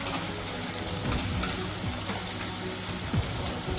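Ginger frying in hot oil for a Kerala sadya curry, a steady close crackling sizzle with faint scraping stirs, nothing else over it.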